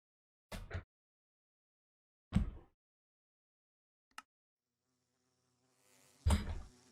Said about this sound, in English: It's the first time I've ever killed bees, and probably the last time I plan to fight them.